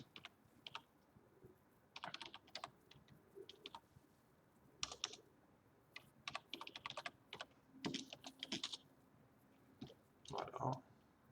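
Quick bursts of typing on a computer keyboard while writing Java code, close clicky keystrokes in uneven runs with short pauses, someone speaking quietly over parts of it.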